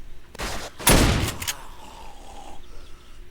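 A rifled shotgun slug fired in the survival game 7 Days To Die: two loud, close blasts about half a second apart, the second heavier, trailing into a fading tail and quiet ambience.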